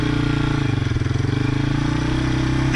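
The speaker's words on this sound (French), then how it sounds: "Donc je lâche l'embrayage et j'accélère" A quad bike engine pulling away in first gear as the clutch is released, a loud close throbbing note rising steadily in pitch, with a clatter near the end.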